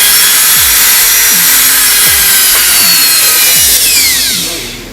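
A Proxxon rotary drill running loud and close, a bright high-pitched whine that climbs steadily as the speed increases, with a few brief clicks and knocks underneath before it begins to fade at the end.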